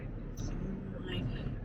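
Cars rushing past at speed, a steady broad roar of traffic from outside with swells as vehicles go by, heard over quiet background.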